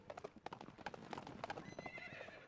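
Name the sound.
horse ride clip-clop, from video game Shantae and the Pirate's Curse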